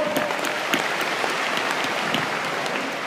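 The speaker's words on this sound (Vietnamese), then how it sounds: "Okay, give yourself a round of applause." Seminar attendees give a short round of applause together. The clapping is dense and even, with sharp claps standing out, and it runs on without any speech.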